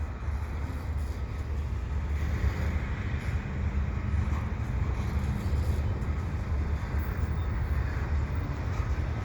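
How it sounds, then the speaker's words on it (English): A CP freight train hauled by CMQ locomotives rolls past at Dorval with a steady, loud rumble and wheel noise, continuous from start to end. "it's not really often you see those CMQ locomotives, so this one's a pretty good train just for that"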